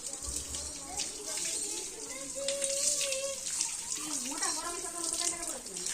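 Cows are bathed with water on a hot day, a steady splashing, gushing stream running continuously and fairly close, with faint voices in the background.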